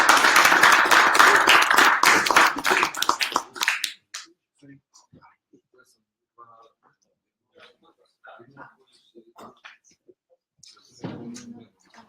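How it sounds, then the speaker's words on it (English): Applause from an audience at a PHP developer meetup, dense and loud for about four seconds before breaking off abruptly, followed by scattered faint taps and rustles in a quiet room. "let's give another warm welcome to"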